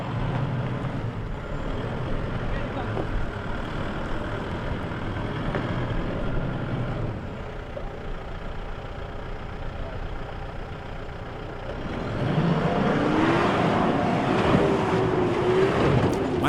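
A Mitsubishi 4x4 bakkie engine drones continuously during an off-road hill climb at a club challenge, a steady rumble that grows louder and more strained toward the end as the vehicle pushes up the slope.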